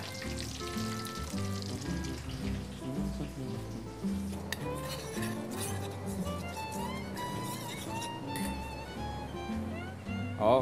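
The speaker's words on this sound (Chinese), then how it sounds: "然后就可以把油沥出来了。" Hot oil draining from freshly fried pork ribs for sweet and sour ribs, a continuous loud sizzle with metal utensils clinking and scraping against the pan nearby.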